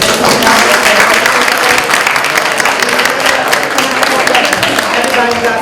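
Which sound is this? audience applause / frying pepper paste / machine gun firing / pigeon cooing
audience applause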